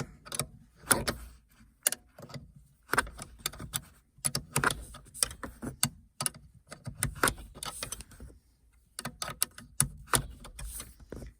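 Sharp clicks and rattles come from turning the handbrake adjuster on a Ford Figo, arriving in irregular bursts with short pauses, close by and without talking.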